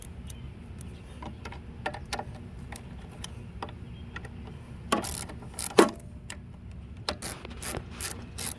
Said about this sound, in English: I'll put a link to this socket wrench as usual